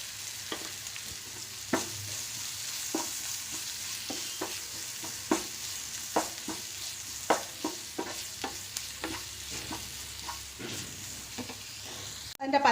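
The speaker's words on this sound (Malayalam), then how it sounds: "ഇനി നമുക്ക് ഇഞ്ചി വെളുത്തുള്ളി ഇട്ട് കൊടുക്കാം" Ginger and garlic fry in hot oil for an aubergine dish while a spoon stirs through them, a steady sizzle under a string of sharp scraping knocks against the pan, close and moderately loud, with no talk.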